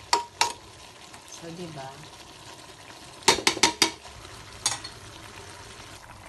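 Ground pork being stirred in a pan while it fries, colored with annatto, giving soft intermittent scraping and clinking of a utensil against the pan, with a quick cluster of sharper clacks midway over a faint sizzle; a person speaks briefly.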